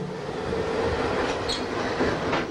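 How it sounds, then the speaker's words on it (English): Steady rumble and rail noise inside a double-decker commuter train riding into downtown Chicago, with faint wheel squeals and clicks over a continuous, even roar and no talking. "I hopped aboard the double-decker commuter train for the 40-minute ride downtown"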